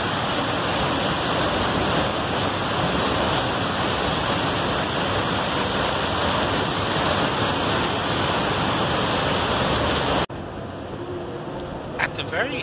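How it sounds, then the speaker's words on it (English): A loud, steady roar of heavy water thundering over Niagara Falls fills the air without letup, then drops suddenly to a quieter rushing near the end. "feel the tons of water gushing over in a thunderous roar"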